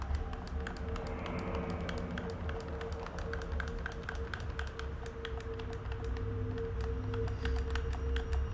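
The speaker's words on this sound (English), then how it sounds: "So sorry if you hear me clicking non-stop." Rapid, non-stop clicking of a game controller or keyboard during play of Fatal Frame V: Maiden of Black Water, sharp close taps in an irregular stream over a steady low background hum, with no talk.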